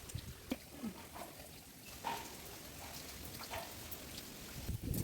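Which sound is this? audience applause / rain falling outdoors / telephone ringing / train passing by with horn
rain falling outdoors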